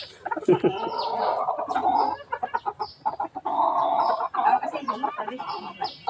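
Hens clucking in repeated bursts of short throaty calls, close and fairly loud, with brief pauses between phrases and no speech.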